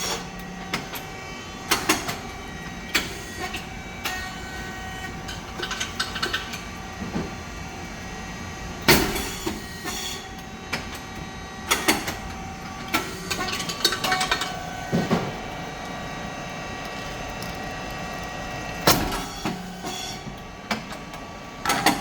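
A SYP9002 rice cake machine, built with contactor relays, a transformer and a 20-litre oil tank, runs with a continuous mechanical hum and repeated loud clacking bursts at irregular intervals, close up and without speech.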